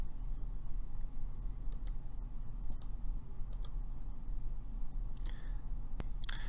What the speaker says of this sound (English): You can select those choices by clicking on the link at the top of the section.